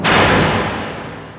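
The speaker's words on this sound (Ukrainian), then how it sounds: "скоріше глухі удари та стук." A single heavy, dull thud booms loudly and then fades away over about a second, with a deep rumbling tail.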